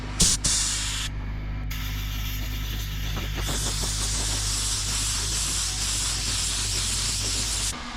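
An aerosol spray can lays a final coat of paint onto a new plastic car bumper, giving a steady close hiss that runs almost unbroken, with a short pause near the start.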